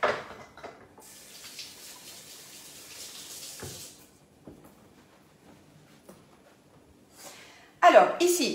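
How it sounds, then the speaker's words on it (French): Running tap water over hands being rinsed in a kitchen while cooking chicons au gratin with purée, a steady hiss of flow for a few seconds, then quieter clatter and a brief louder splash near the end. "je vais juste me rincer les mains."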